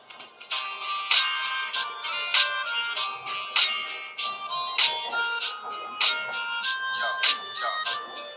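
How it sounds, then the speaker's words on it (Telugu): A small MP3 player's built-in speaker plays a song, with bright, thin, tinny melodic notes in a steady repeating rhythm and no talking over it. "దీనికి ఒక స్పీకర్ ఉండటం వల్ల మనం సాంగ్స్ కూడా మామూలుగా కూడా వినొచ్చు ఇప్పుడు మీకు ప్లే చేస్తా చూడండి"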